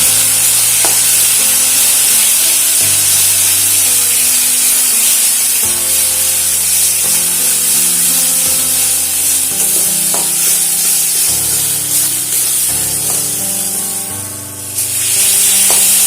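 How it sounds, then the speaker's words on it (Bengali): Spices with chili powder, salt, turmeric and a spoon of sugar are stir-fried in a pan for potol chingri, a pointed gourd and prawn dish, with a loud continuous sizzle and hiss under repeated scraping strokes of a spatula. "এবারে সমস্ত মশলাটাকে একটু কষিয়ে নেব"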